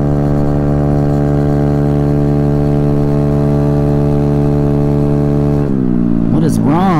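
A Honda Ruckus scooter engine that is accelerating poorly drones loudly and steadily at a constant pitch, then shifts and wavers near the end as a voice speaks.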